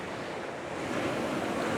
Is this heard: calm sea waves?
yes